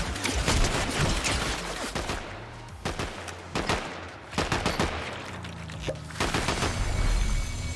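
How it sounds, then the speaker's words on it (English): A gold drum gun firing in Fortnite: long, rapid automatic bursts with brief pauses between strings of shots, loud and close throughout. "I mow him down with that gold drum gun"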